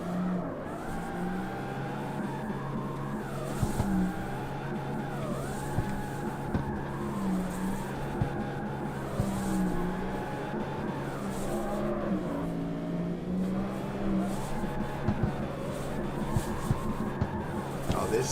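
Car drifting in the CarX Street racing game, with a steady engine drone and tyre screech rising and falling in long sweeps, continuous and close throughout, with faint voices talking underneath.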